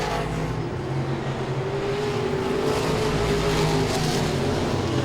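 Modified race cars circle Langley Speedway in a loud, continuous engine roar, several motors droning and overlapping steadily with no break.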